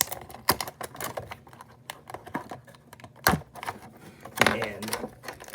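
Sharp snipping clicks come from cutting the small packaging ties off a Jurassic Park Hammond Collection Velociraptor toy, a quick irregular run of close cuts and plastic rustles.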